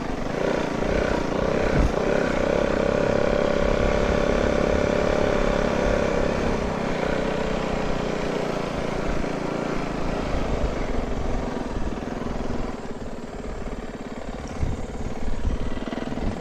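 A motorcycle engine drones steadily while the rider crosses a highway, staying loud and close throughout with slight shifts in pitch under a constant rumble.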